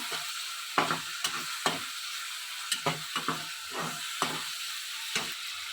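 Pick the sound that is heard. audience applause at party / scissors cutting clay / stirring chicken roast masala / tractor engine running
stirring chicken roast masala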